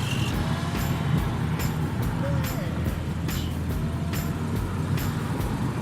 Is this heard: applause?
no